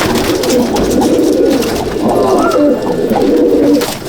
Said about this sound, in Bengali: এই হাইব্রিড পায়রা দিয়ে সব এবারে মানুষে যে যেভাবে নেয়, এটা এখানকার পায়রা, ওখানকার পায়রা